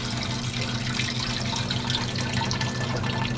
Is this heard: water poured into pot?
yes